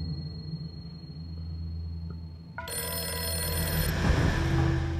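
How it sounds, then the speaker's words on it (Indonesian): A telephone in the horror video game In Nightmare suddenly starts ringing with a loud, bright electronic trill over a low droning ambient background, continuing steadily once it begins. "Telepon berdering."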